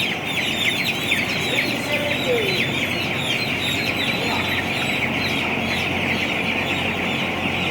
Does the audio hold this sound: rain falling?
no